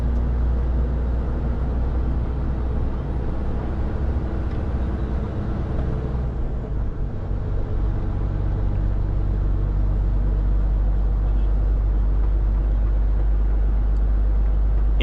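A truck drives along a road into Harare, Zimbabwe, heard from inside the cab as a loud, constant low engine rumble and road drone that stays steady throughout.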